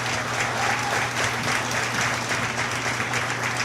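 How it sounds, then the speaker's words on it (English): Steady, full applause from the crowd in the stands at a county steer show fills the whole stretch, even and continuous with no voices on top. "Give him a nice round of applause, please."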